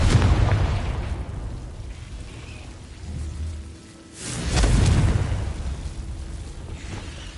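Two booming bursts from the Confringo fire spell in Hogwarts Legacy, one at the start and one midway, each swelling and fading over a low rumbling background.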